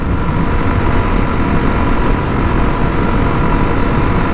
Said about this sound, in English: I don't know how well you guys can hear the engine.